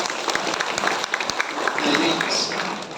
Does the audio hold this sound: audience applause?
yes